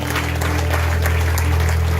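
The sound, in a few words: applause from church congregation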